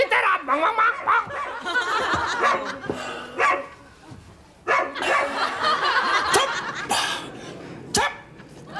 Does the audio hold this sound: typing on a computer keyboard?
no